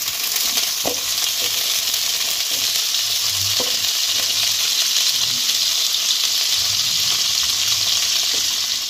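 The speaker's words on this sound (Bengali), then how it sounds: "এবার প্রথমে আমি ফুলকপিটাকে ভালোভাবে ভেজে নেব" Cauliflower florets fry in a pan for a vegetable fried rice, giving a steady close sizzle with occasional stirring scrapes and knocks throughout, and no one speaking.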